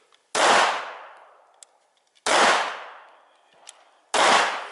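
Three sharp, loud shots from a tiny Baby Browning pocket pistol crack out about two seconds apart, each with a quick decaying tail, with small metallic clicks between them and no talking.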